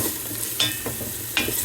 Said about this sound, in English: So I got the onions and the garlic in here, simmering or sizzling, I should say